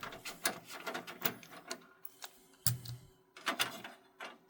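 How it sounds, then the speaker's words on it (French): A screwdriver backs out the screw holding a PCI Express bracket in a PC case, giving a close run of small metallic clicks, ticks and scrapes with brief pauses and no talking. "Je dévisse donc la deuxième équerre PCI Express, donc la vis qui est ici."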